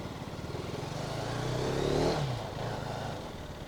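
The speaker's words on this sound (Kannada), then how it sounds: "first ride on our new bike" A new KTM Adventure 250 motorcycle on its first ride, engine droning steadily and swelling a little in the middle, with some rattle and scrape; no one talks.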